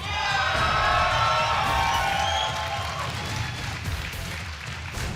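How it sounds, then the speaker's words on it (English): An esports audience at an IPL 5 StarCraft match cheers and whoops loudly, the swell of shouting peaking early and then easing into a lower, sustained crowd roar. "Most people cheering, one guy in the front row not impressed"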